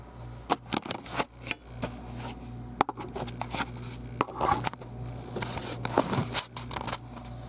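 Screws are removed from the back of a Dell XPS 8300 desktop computer case, giving a series of short, close metallic clicks and scrapes in irregular rhythm, with no talking.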